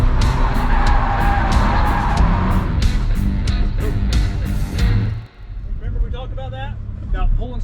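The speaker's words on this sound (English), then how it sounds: "let's see if we can link up some more of these donuts and maybe a figure eight or two" A drifting car doing donuts roars and skids with continuous loud tire squeal and engine noise, then the screech cuts off and the motor drops to a lower rumble as a voice talks over it.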